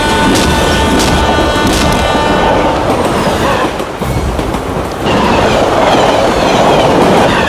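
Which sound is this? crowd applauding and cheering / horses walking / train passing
train passing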